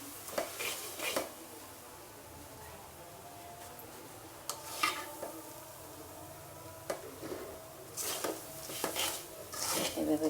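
A sesame and coconut naru mixture with ground roasted rice is turned in a pan, producing scraping and clinking of a utensil against metal in irregular bursts, with a faint voice in the background.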